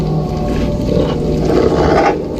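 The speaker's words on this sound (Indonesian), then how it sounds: "kayak suara serigala." A wolf-like howl from the horror video game Eleusis: a loud, sustained, mournful call lasting a couple of seconds over a rumbling background, with no talking.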